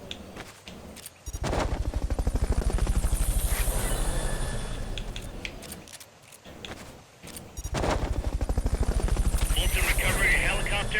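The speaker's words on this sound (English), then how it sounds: "Fulton recovery helicopter is complete." Fulton recovery helicopter in Metal Gear Solid: Peace Walker, a loud rotor whir that fades briefly, then returns, with gunfire-like bursts mixed in.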